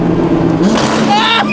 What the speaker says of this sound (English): The downshifts.